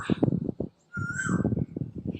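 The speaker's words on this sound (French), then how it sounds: "Il y a un oiseau qui s'énerve." An agitated bird calls outdoors in a series of harsh, repeated notes, broken by a short pause and then resuming with a brief thin whistling tone, moderately close.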